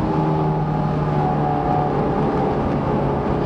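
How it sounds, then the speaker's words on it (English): A Scion FR-S sports car's flat-four engine drones under steady throttle, a continuous, loud, close tone heard from inside the car with a constant rumble beneath it; no talking over it. "here I am stepping on the throttle, and I feel like the FRS is holding something back"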